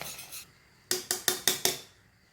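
A whisk strikes a pan of custard on a low flame with quick metallic rattles, a short scraping burst and then five sharp, evenly spaced clinks, close and fairly quiet.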